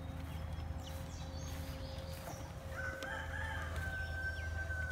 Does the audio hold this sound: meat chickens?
yes